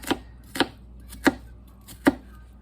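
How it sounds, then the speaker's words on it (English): An onion cut on a board with a knife, four sharp, separate chops spaced about half a second apart, close and clean with no talking. "So let me cut up some onion."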